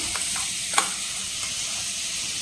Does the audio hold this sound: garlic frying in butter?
yes